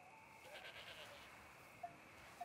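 A goat gives a faint, wavering bleat a short way off, a brief cry against a quiet, hissy background.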